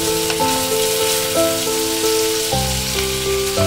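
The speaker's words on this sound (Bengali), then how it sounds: "তো ব্রোকলিটা ভাজা চলছে মশলার সাথে কষানো" Broccoli sizzles steadily in a pan as it fries with spices, a continuous hiss running underneath sustained tonal sounds throughout.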